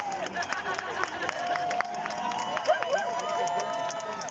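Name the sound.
crowd cheering at a rally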